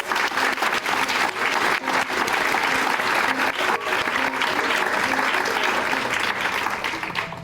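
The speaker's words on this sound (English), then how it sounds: "Please join me in giving all of our students another round of applause." Sustained audience applause for students at a school district State of the Schools event, a dense steady wash of clapping that fills the whole stretch without a break, loud and close.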